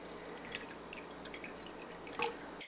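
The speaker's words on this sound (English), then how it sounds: "I'm gonna be using water, plain bottled water" Plain bottled water pours and drips into a light-up acrylic glass, a soft, close trickle with a few brighter drip splashes standing out, fairly quiet overall.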